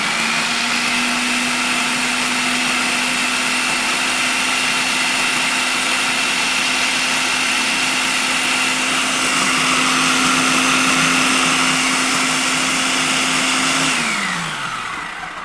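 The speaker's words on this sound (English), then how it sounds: "Blend it down and see if it gets me where I want to go with the creaminess and that smoothness." A blender runs continuously on avocado, a steady loud whirring motor drone that holds for about fourteen seconds before spinning down at the end.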